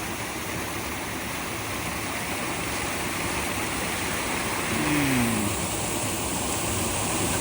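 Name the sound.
waterfall and stream in a canyon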